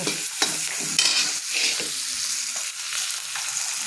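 Onions fry in a pan with a loud, steady sizzle, broken by close scraping clicks as they are stirred.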